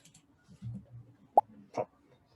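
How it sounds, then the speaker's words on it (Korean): A single short, bright pop stands out in a quiet room, followed by a softer blip, with faint low murmuring before it. "화살을 쏠 때마다 팝 소리가 나게 할게요."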